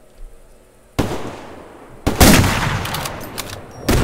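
Sniper rifle shots in the shooter game Survarium: a sharp loud crack at about one second, then a louder blast with a ringing tail, and another sharp report near the end, with no talking.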